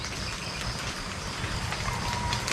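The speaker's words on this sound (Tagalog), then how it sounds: "Ayan na naman ang ulan." Heavy rain falls steadily outdoors, a continuous broadband hiss and patter at moderate level with no voices over it.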